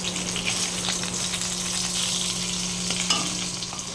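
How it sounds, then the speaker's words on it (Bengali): A fish head frying in a pan makes a loud, steady sizzle and crackle, with occasional stirring scrapes and a low electrical hum underneath. "মাছের মাথাটা একটু কম ভাজা হয়েছে, তো ওটাকে আর একটুখানি আমি ভেজে নেব"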